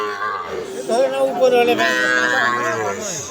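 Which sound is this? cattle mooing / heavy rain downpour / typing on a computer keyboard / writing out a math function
cattle mooing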